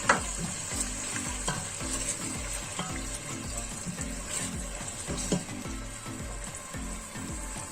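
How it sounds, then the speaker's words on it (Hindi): Spices sizzling and frying in a pan while being stirred for a Pakistani-style egg and potato curry, with steady loud crackling and repeated scraping stir strokes throughout, close up and with no talk. "अभी मैं मसाले ऐड करूंगी।"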